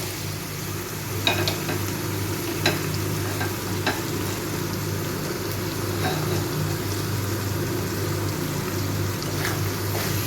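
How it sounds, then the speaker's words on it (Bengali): Onion and tomato frying in a pan for chicken curry make a steady close sizzle, broken by occasional sharp scrapes and taps of a stirring spoon over a low constant hum. "এই পেঁয়াজ আর টমেটোটাকে একটু খুব ভালো করে ভেজে নেব"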